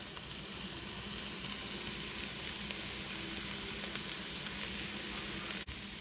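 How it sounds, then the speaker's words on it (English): Garlic sizzling in a hot pan while cooking an Italian gnocchi soup, a steady, quiet frying hiss that continues throughout with no one talking. "Garlic, time to add the garlic."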